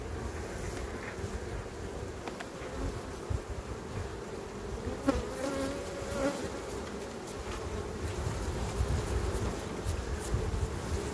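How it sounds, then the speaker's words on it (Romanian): Honeybees drone in a steady, dense buzz around a hive frame that holds young brood while it is being worked, close and continuous, with an outdoor breeze rumbling underneath. "îndepărtăm acolo albinuțile astea"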